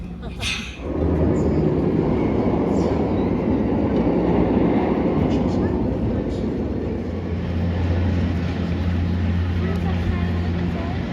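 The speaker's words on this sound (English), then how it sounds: "The Scaries decided they wanted to go on a train ride" A small amusement park train rumbles along steadily with a low mechanical drone and rattling, loud and close, with faint voices mixed in during a Halloween event.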